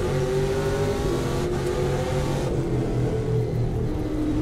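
Trans Am race car engine laboring as it climbs a steep hill on the Sonoma road course, a loud, steady droning roar with a low rumble that holds constant throughout, close to the car and with no voices.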